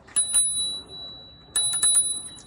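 A bicycle bell on an older scooter rings in bright metallic dings, two quick strikes early and then a rapid cluster of rings after a pause, heard close and alone.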